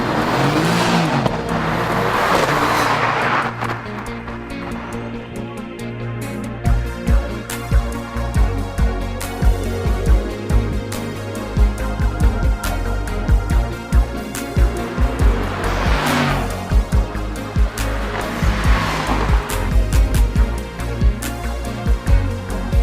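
A 2017 Mercedes-AMG GT and a 2017 Mercedes-AMG CLA45 accelerate hard on open road, with loud, sustained engine roar rising through the gears and sharp bursts of revving and pops near the middle and end.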